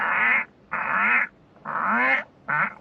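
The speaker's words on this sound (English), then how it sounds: "inside the cistern, there's obviously a tree frog, and it's going off." A tree frog calls from inside a toilet cistern in a bathroom, four loud, rasping, quack-like bursts about half a second long with short gaps between them, close and clear with no talk.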